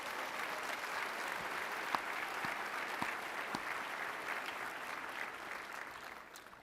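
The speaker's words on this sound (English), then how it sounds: "Another round of applause for our great friend." At Heritage's 50th anniversary gala, a large audience gives a round of applause, a broad, steady wash of clapping heard from some distance that fades slightly toward the end.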